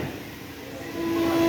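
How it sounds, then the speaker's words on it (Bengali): A Vande Bharat sleeper train on the Howrah–Kamakhya route pulls out of New Bongaigaon Junction, its low rumble swelling steadily, with a sustained horn-like tone rising near the end. "বন্দে ভারত আমাদেরকে ছেড়ে চলে যাচ্ছে"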